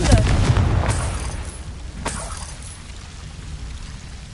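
A blasting spell explodes in a Hogwarts video game, a loud booming burst at the start that rumbles and fades, followed by a second, softer crack-like blast about two seconds in, with a sustained low rumble beneath.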